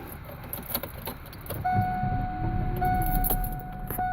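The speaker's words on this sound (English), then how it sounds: "and then I start the car" A van is started: keys jangle, then the engine catches and settles into a low, steady hum, with a steady electronic chime tone above it.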